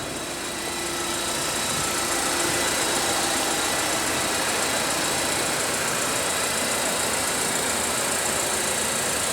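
A 2015 Mercedes-Benz SLK with a 1.8 L turbocharged four-cylinder idles steadily up close after start-up, a smooth continuous hum with a faint whine and no voices.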